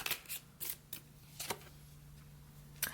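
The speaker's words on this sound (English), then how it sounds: "I'm going to pull some additional cards." Tarot cards are handled and pulled, producing quiet, close crisp slaps and riffles in scattered bursts over a faint steady hum.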